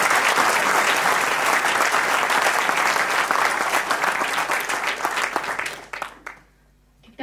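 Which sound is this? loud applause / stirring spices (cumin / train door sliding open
loud applause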